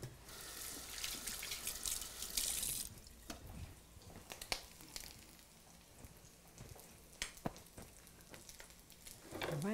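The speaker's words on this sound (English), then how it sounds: "let me rinse my hands." A kitchen tap runs while hands are rinsed under it, a splashing gush at first that gives way to quiet dripping and scattered droplet taps, close and fairly soft.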